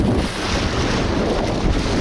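Sea water splashes in steady waves at a beach by Zhelezny Port in summer, with heavy wind buffeting the microphone throughout as a continuous loud roar and no voices.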